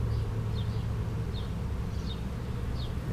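Honey bees from a caught swarm hum in a dense, steady buzz around their hive close by, with a few brief higher chirps rising over the drone.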